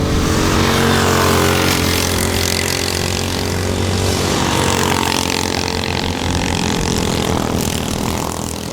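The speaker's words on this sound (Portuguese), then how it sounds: "a garotada do kart vem acelerando em ritmo fortíssimo" Racing karts in a cadet class accelerating hard around a race track, a loud continuous engine drone with shifting pitch throughout, no voices over it.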